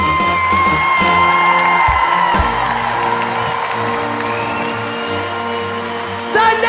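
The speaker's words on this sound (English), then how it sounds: "Would you give them a round of applause?" A crowd whoops and cheers for snake stick dancers and soloists at a Race Against Drugs show, loud and sustained over music, with a brief burst of shouting near the end.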